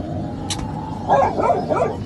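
A dog barks several times in a rural outdoor spot, a few sharp, fairly close yips and barks in quick succession over a low steady background hum.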